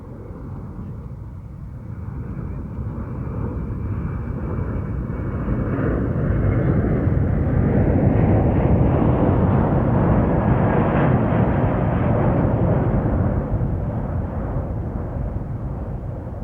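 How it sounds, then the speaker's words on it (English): A McDonnell Douglas C-17A Globemaster III transport flies past at an air show, its broad jet roar swelling steadily to a loud peak midway and then holding, with no voices over it. "Newest strategic transport to enter USAF service is the McDonnell Douglas C-17A Globemaster III."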